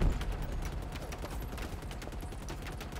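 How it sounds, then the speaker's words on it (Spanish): Rapid gunfire in the video game Halo Infinite as a player shoots a propaganda tower, a fast burst of repeated shots at moderate level with a heavier hit at the start. "A mí me tomó unos cuantos tiros pero simplemente destruíla."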